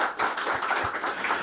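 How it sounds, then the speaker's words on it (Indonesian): Brief, light applause from a small studio group for a guest on an economics talk show, a short patter of hand claps. "Kita berikan tepuk tangan buat Pak Hariko"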